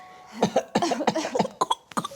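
A short burst of several rough coughs in quick succession, close by and fairly loud, with brief gaps between them.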